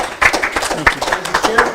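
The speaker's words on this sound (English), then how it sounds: "Come on, round of applause." Audience applause at a New Jersey Libertarian gubernatorial debate, a steady burst of clapping from a crowd that runs through the whole moment at close range and moderate loudness.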